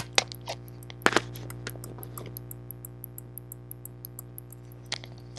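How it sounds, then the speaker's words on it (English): A small electromagnetic relay in an RC circuit ticks rapidly and evenly near the microphone above a low mains hum, broken by a few sharper handling knocks. "The relay is ticking away."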